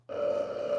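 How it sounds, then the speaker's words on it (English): A replayed belch: one deep, sustained croaking burp lasting under a second, close and fairly quiet, with no other sound. "That is the belch of victory right there"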